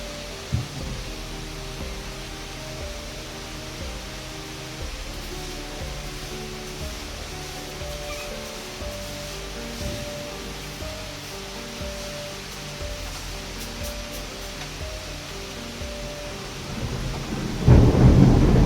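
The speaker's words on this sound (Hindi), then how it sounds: "बाहर तो आ गई है बहुत जबरदस्त बारिश" Heavy monsoon rain pours down outdoors with rolling thunder, a dense continuous roar punctuated by low rumbles and a louder burst near the end.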